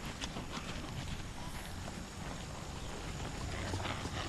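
Faint, distant hoofbeats of Standardbred horses clip-clopping across the ground at a horse show, under a steady wash of outdoor background noise.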